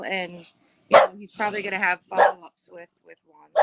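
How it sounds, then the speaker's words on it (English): A pet dog barks and yips in short bursts indoors, close and fairly loud, cutting in between a woman's speech. "Sorry, my dog."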